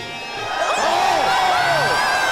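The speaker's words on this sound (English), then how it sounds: "Crowd goes nuts." A large wrestling arena crowd cheers and roars, swelling from a low murmur into a loud, sustained wall of shouts and whoops that holds steady.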